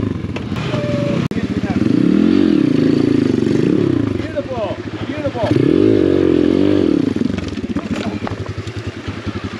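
A Chinese dirt bike engine labours up a hard enduro hill climb, revving in loud, rising and falling surges with clattering from the bike, while a rider shouts over it.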